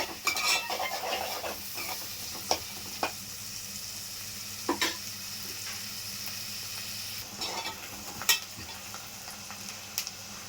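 Onion pieces frying for a chicken egg gravy with green chillies, stirred with a spoon so it scrapes and clinks against the pan now and then over a steady soft sizzle, close by with no talk.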